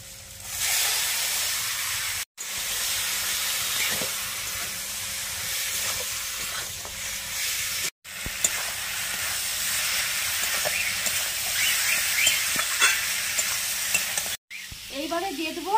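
Marinated goat meat hits a hot pan and sizzles loudly and continuously, with scraping stirring sounds and a few very short breaks.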